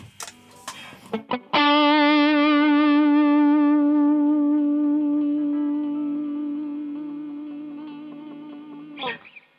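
An electric guitar played through a Greenchild K818 Klon-style overdrive pedal pushes the amp's front end hard. A few quick picked notes lead into one loud, driven note that sustains for about eight seconds and slowly fades before a brief final scrape.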